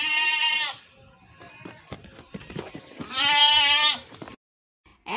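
Goat bleats loudly twice in separate wavering calls, with a quieter stretch of rustling noise between them and a brief gap near the end.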